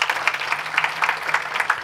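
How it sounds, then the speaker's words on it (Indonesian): Church congregation applauding during a sermon, a steady crackle of many hands clapping together, fairly loud and continuous with small swells, no speech over it. "Tepuk tangan saudara."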